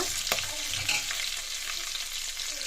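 Onions and green chillies fry steadily in a pan, a continuous close sizzle with a few brief stirring clatters and no talk.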